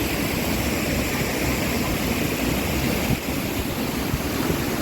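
The Manimuthu river at Vadapoondi flows steadily in a loud, continuous broadband rush that holds close to the microphone for the whole stretch, with no voices over it.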